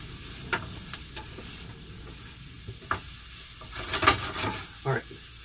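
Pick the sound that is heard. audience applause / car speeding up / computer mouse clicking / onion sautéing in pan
onion sautéing in pan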